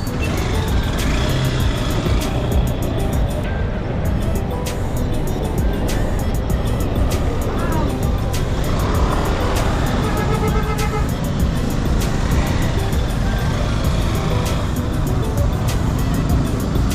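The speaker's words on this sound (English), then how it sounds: "This is traffic." Busy street traffic in Kathmandu, a steady loud wash of car, truck and motorbike engines with scattered horn beeps throughout, close by and continuous, with no talking.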